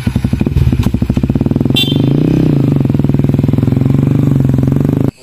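A motorcycle engine runs loud and close, its rapid, steady chugging pulse holding a constant rhythm before cutting off abruptly.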